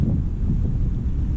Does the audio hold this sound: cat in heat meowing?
no